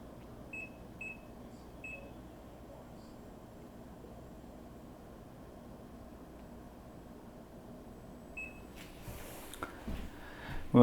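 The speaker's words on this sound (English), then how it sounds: "I'm going to set my timer for an hour" A small kitchen oven timer being set gives a few short, high beeps early on, then a quiet room hum. Some faint clatter follows near the end.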